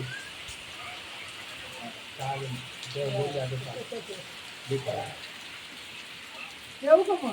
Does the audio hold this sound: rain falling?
yes